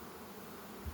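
Honeybees hum at their hives in a faint, steady drone with no other sound.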